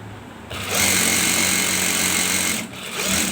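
A sewing machine runs steadily, close and loud, stitching a seam on a belted ladies' shalwar, with a short pause before it starts again.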